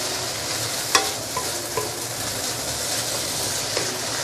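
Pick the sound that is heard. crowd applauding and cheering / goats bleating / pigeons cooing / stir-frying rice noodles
stir-frying rice noodles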